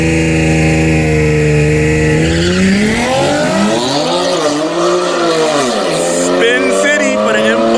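Loud, close engine roar from drag-racing cars, a BMW M4 CS and an Audi RS7, revving with rising and falling pitch as they launch toward the wall, with tire squeal and crowd voices over the noise.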